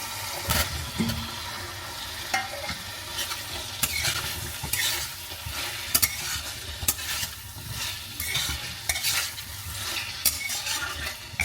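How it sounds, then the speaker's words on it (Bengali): Paneer and potatoes frying with spices in a pan, a continuous close sizzle broken by repeated sharp spatula scrapes and clanks against the pan, no voices. "আর একটু ভেজে নেবো পনির আর আলু দিয়ে"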